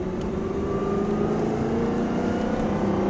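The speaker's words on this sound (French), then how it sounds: "On accélère progressivement." A car accelerates steadily on a driving track during a driving lesson, its engine giving a continuous, close hum that builds gradually for about three seconds with no talking.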